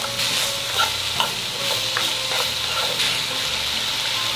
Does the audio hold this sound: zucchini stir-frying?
yes